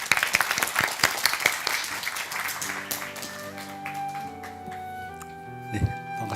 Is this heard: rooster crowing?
no